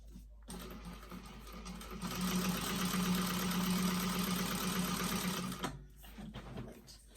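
A sewing machine runs a steady top stitch along each side of a tote bag, close and continuous for several seconds before it stops.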